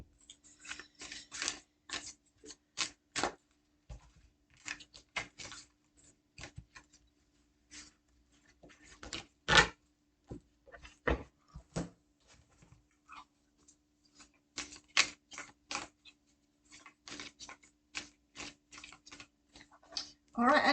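Oracle cards shuffled and handled close up, producing quiet irregular flicks and riffling snaps in uneven clusters with brief pauses, with no voices.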